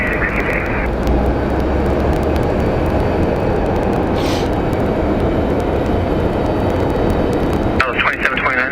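A Mesa Airlines airliner at Phoenix Sky Harbor airport makes a loud, steady, broadband engine roar for the whole stretch, with a voice briefly over it at the start and end.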